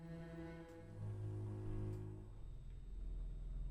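A Scary Strings sample library in a neurofunk drum and bass production plays by itself, a dark, sustained, droning string texture with low rumbling layers swelling and shifting, fairly quiet.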